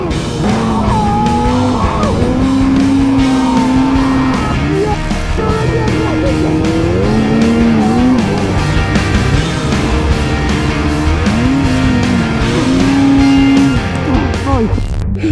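A snowmobile engine revs and drones steadily at close range in the mountains, its pitch rising and falling in repeated surges, with voices shouting faintly underneath.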